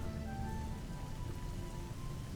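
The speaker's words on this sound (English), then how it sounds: "And it is raining. Yeah, it's raining." Rain in RimWorld falls as a steady, even hiss of drops with a faint tonal hum underneath, continuous and unvaried from start to finish.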